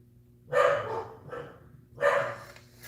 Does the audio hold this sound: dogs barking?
yes